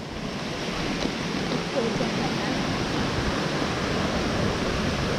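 Devil's Bridge waterfalls in Wales roar as a loud, steady broadband rush of falling water, constant and close throughout with no break.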